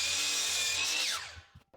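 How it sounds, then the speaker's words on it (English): A power saw bites through a short trim cut on lumber for an end table, a loud high whine that drops in pitch as the blade winds down and stops, followed by a few faint knocks. "pull your saw down, bump your lumber up tight to the saw blade, and then when you cut it, you'll take off just enough"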